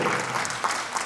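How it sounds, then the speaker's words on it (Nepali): Crowd applause fills a dance competition hall in Tokyo, a dense steady patter of many hands clapping at once, loud and close, with no talk. "एकचोटि ताली बजाइदिनु होला"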